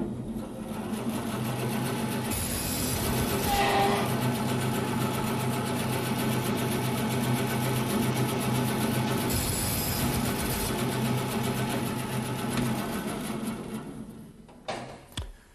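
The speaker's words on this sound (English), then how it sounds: "Tenons can be cut easily on the bandsaw." A bandsaw runs steadily in a woodshop, cutting tenons in wood held square on a mitre slide against a depth stop, a continuous close motor drone with brief higher cutting whines, then winding down near the end.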